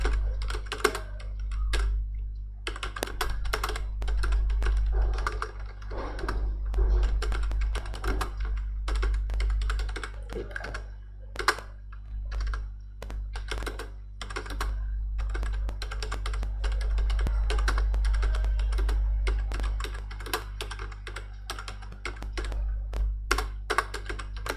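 Fingers type on a computer keyboard in quick, uneven bursts of clicking keys that run almost continuously, set against a steady low electrical hum.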